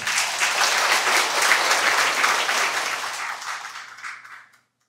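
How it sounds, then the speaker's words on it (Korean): An audience at a Buddhist ceremony gives steady applause to welcome a speaker to the podium, a dense and loud wash of clapping that holds, then gradually thins and fades out to silence. "큰 박수로 모시겠습니다"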